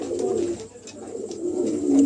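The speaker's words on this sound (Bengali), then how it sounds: "একজোড়া কবুতর পাও থেকে খুবই হাইট কোয়ালিটি কবুতর" A pair of show-quality pigeons coo close by, soft low throaty calls in repeated rolling phrases with short gaps between them, heard alone without talk.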